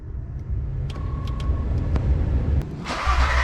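A VW/Audi VR6 3.2L car engine rumbles at a low idle with a few clicks and ticks, then a louder burst of engine noise near the end, after coolant thermostat and housing replacement.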